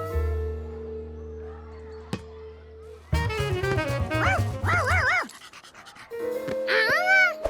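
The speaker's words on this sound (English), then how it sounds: "He couldn't even hear that dog mooing anymore." Cartoon dog Charkie from Curious George, with a run of excited yips, pants and bouncy whimpering calls rising and falling in pitch, loud and close, broken by a short pause midway.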